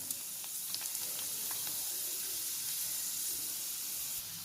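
Continuous bright sizzling of poori frying in hot oil, with occasional small pops and crackles, close and steady throughout.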